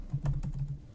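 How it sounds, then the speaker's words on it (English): Computer keyboard clattering as an email address is typed, a short quick burst of several close keystrokes with no voices. "now I'm going to type in that allowed email address"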